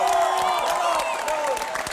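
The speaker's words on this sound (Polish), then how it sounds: "Wielkie brawa!" Studio audience applause and cheering during a Polish charity fundraising broadcast, a dense continuous wash of clapping with whoops that holds steady and slightly fades over two seconds.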